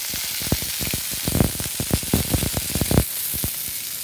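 Bradley's sausage links sizzle in a hot frying pan with a steady crackling hiss broken by frequent sharp pops and spits, close and moderately loud, with no talking.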